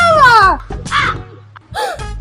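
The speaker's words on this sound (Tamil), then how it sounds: "இது கிளி இல்ல, இது காக்கா" Crow cawing close by, several loud harsh calls in quick succession with short gaps between them.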